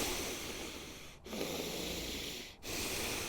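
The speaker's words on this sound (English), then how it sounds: "Big breaths, big exhales." Deep, forceful breathing during guided breathwork, long airy inhales and exhales that rush in and out close up, broken by two brief pauses between breaths.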